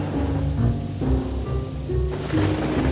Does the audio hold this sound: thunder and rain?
yes